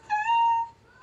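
A cat gives a single clear, drawn-out meow, close and loud, with no talking over it.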